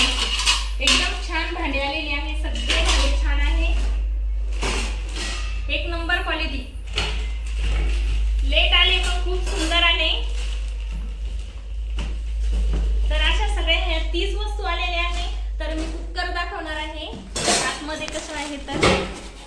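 Steel pots, kadhai lids and a steel pressure cooker clank and rattle as they are handled, under a person talking almost throughout.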